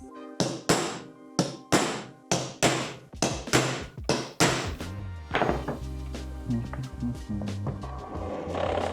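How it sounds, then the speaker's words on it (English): Center punch tapped with a hammer to mark screw holes in wood, about a dozen sharp, close metallic taps in a steady rhythm, then a few softer knocks and clatter with a brief voice. "Center punch."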